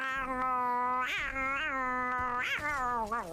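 A person imitates a cat with a series of drawn-out, wavering meows, close and clear, one after another with short pauses between.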